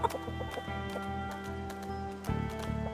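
Chickens in the survival game Project Zomboid cluck in quiet repeated bursts over a tonal in-game background hum, with a slightly louder stretch toward the end.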